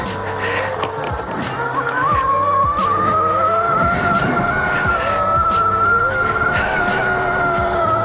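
Electric Mantis kids bike whines with a steady rising motor tone while riding a motocross track, close and loud over rough rumbling ground noise and tire scuffs.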